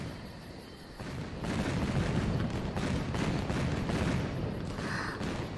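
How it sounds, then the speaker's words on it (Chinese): Fireworks go off in a fantasy drama scene, a dense run of popping bursts and rumbling booms that rises after a quieter start and keeps crackling steadily to the end. "这叫烟花，我让谷中弟子从人间带回的，喜欢吗？"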